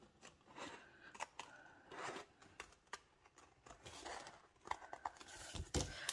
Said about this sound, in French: On vient découper.